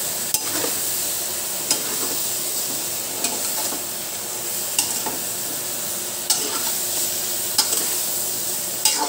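Tinola fish soup is stirred in a pot over heat, a steady hissing simmer with periodic soft scrapes and clinks of the utensil against the pot, close and moderately loud, with no talking.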